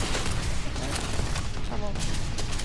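Video-game gunfire crackles in dense, overlapping bursts through a noisy battle mix, steady and fairly loud across the whole stretch, with voices talking over it.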